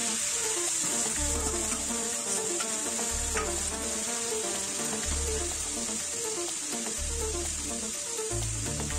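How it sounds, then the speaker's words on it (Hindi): Green peas and grated tomato fry in a pan and are stirred, producing a continuous close sizzle with scraping strokes over a recurring low hum, without any talking. "अब हरी मटर डाल देते हैं, मटर को भी 2 मिनट तक भून लेंगे।"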